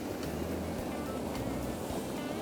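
Fast-flowing stream water rushes steadily during trout fishing, a broad continuous wash heard up close with no talk over it.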